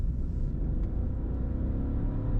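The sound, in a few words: Audi A1 Sportback 25TFSI driving on road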